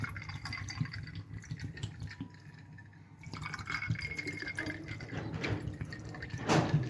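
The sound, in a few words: pouring cold water for sharbat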